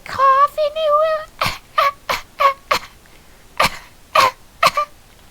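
Someone coughs in a short rough run of bursts after a brief high vocal sound, loud and close, with pauses between the coughs.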